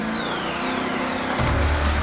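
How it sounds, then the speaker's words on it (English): A turbocharged custom car accelerates hard on a speed run, its engine roaring loud and close with a rising turbo whine, then surging heavier in the last second. "Turbos are winding up."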